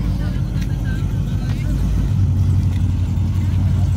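Camaro with a built LT1 V8, 10-speed automatic, D1X ProCharger and cam on low boost of 7 to 8 psi, its deep engine rumble running steadily and swelling louder partway through, with some talk alongside.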